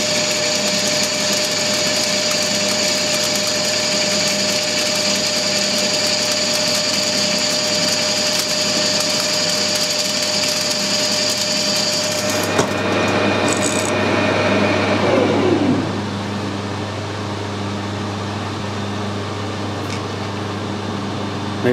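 A lathe turns a cast iron bar for piston rings, the tool cutting beneath its hard outer skin with a steady loud machine hum and whine; the cutting tone shifts and drops away near the end as the cut finishes, the motor still running.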